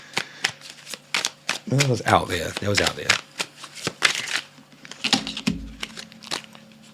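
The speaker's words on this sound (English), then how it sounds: "I'm shuffling the wrong cards." Rapid riffling and flicking of tarot cards being shuffled repeats in short bursts, close by, while someone talks over much of it.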